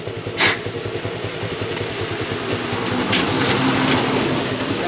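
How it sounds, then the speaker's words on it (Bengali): A motorcycle engine idles with a steady, low rumble in heavy rain, with a few brief hissing bursts over the running motor. "স্টার্ট দিও, মোটর সাইকেল ঠিক আছে।"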